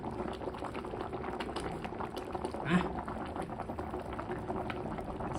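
A pot of water at a rolling boil for Thai tilapia soup bubbles steadily and quietly close by, with one brief louder splash or pour partway through and someone talking faintly underneath.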